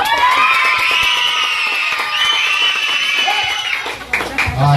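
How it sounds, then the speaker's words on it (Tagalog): Children clap and shout together at a sixth birthday party, a loud sustained crowd of high voices and scattered claps close by, fading briefly near the end. "Palakpak na may kasama ang sigawan."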